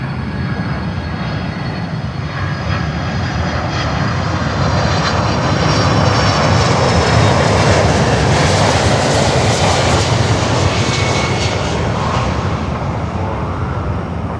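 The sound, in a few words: DHL Boeing 767 jet arriving at Miami airport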